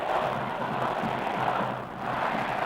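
Distant, steady roar of a record crowd of over 80,000 in the stadium at a 1966 Notre Dame vs Michigan State college football game, a broad murmur with a brief dip near the end.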